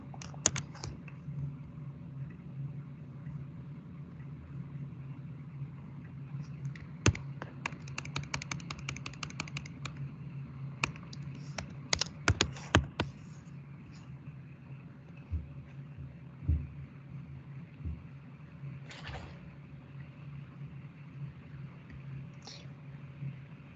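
Bursts of typing on a computer keyboard, entering C# code, with quick clusters of key clicks separated by pauses over a steady low room hum, no speech.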